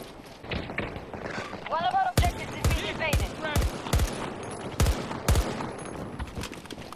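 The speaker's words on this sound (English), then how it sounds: "Why does the burst have a much higher rate of fire than automatic does on this gun?" Burst-fire gunshots from a weapon in the Battlefield 2042 video game, sharp close cracks in quick clusters of two or three, repeating roughly eight times over a bed of ambient game noise.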